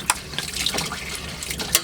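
Hot tap water runs and splashes while dishes are washed by hand in a campervan sink, a steady close trickle with a couple of sharper splashes or clinks.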